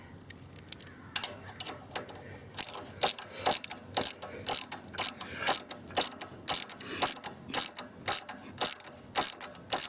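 A ratchet wrench tightens a bolt on a motorcycle footpeg relocation kit, its pawl clicking in steady repeated bursts, close and clear with no talk.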